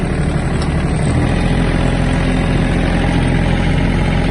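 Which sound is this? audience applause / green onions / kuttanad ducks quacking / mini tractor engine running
mini tractor engine running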